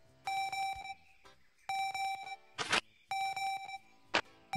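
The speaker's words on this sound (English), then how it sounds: "But why does he still beep? Maybe it's his pacemaker or a bomb." A dead character in the Kaptain Brawe video game beeps in repeated electronic bursts. Three clear tonal beep sequences are heard, each followed by a short noisy crackle, with brief pauses in between.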